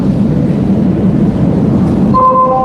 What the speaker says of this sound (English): The train arrived,